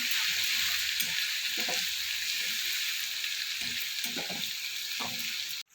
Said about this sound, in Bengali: রসুনটা কিছুটা আমার ভাজা হয়ে গেছে